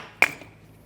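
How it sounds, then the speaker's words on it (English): A single sharp metallic tap of a hammer on a Chevrolet Trax caliper bracket to free frozen brake pads, a bright ringing ping that decays quickly, close and isolated. "so I just take a tap on a hammer"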